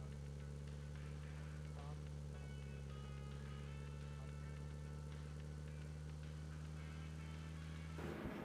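A car engine from the PUBG Mobile video game drones at a steady idle-like hum with a strong low rumble, continuous and loud, then shifts briefly near the end; a voice speaks once over it.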